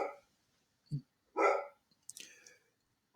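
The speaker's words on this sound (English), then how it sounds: "I don't know if you guys can hear my dogs in the background" A few sharp dog barks and yips, spaced apart with silence between, fairly close and clear, with no other sound around them.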